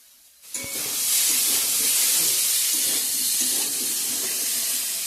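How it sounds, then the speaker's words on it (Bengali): Spices and chili powder frying in a pan burst into a loud, steady hiss that starts abruptly after a short quiet moment and holds strong throughout. "আর অল্প একটু লঙ্কার গুঁড়া দিয়ে দিলাম ভালো করে কষিয়ে নেবো"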